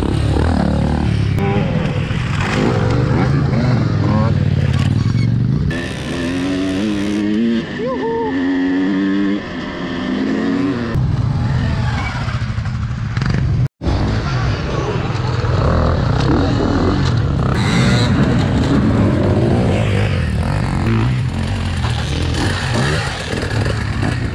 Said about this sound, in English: All kinds of bikes compete here.